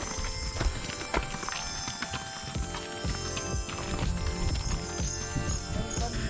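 Horses clip-clop along at Matheran hill station in India, with steady hoof falls mixed into a busy outdoor din of footsteps and background bustle, no talk.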